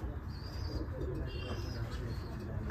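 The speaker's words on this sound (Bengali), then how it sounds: "আমাদের সেই ভাইরাল সিদ্দিক ভাইয়ের কবুতর।" Pigeons coo at a farm where the birds are kept in cages, low throaty calls layered with faint chirps and a steady hum of background noise.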